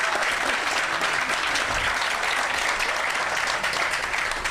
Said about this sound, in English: clap it, that's right